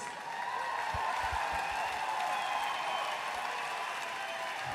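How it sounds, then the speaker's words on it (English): Steady crowd applause for two boxers after a four-round amateur bout, a continuous wash of clapping at moderate level with a few low thumps early on. "A round of applause for these two fighters"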